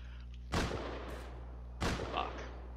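Two loud, close gunshot blasts from Rust Console, roughly a second apart, each with a brief ringing tail over a low steady hum.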